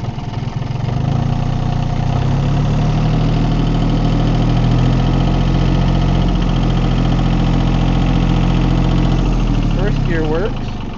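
A John Deere 870 tractor engine runs in first gear with a steady, loud, close-up rumble that continues unbroken throughout, with brief speech near the end.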